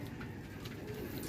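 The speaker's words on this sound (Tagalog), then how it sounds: "Mga kalapati." Pigeons cooing on a house roof deck, soft low repeated coos close by over a faint background hum.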